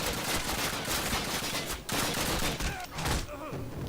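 Call of Duty gunfire: dense, loud bursts of automatic fire and overlapping shots, with a few short breaks, then a quieter tail near the end; faint voices sit underneath.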